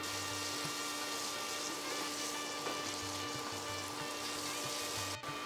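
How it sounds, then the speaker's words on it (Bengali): Turmeric-spiced masala sizzles steadily in hot oil as it is stir-fried for a Bengali wedding-style kata chochchori, a constant close hiss with a low hum and a brief clatter near the end. "এই পর্যায়ে রান্নাটি ততক্ষণ কষান যতক্ষণ না মশলা থেকে পুরোপুরি তেল"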